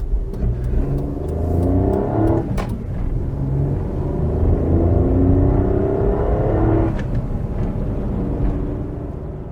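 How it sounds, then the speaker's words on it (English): A Daewoo Matiz cruising along the M56 motorway at speed, giving a steady, close engine drone and road rumble throughout, with a couple of brief clunks from inside the cabin. "So here we are, blatting along the M56 at a fair old lick."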